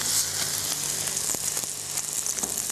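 Pork neck is laid into a very hot pan to brown the outside, producing a loud steady sizzle with occasional crackles and light taps, with no voices.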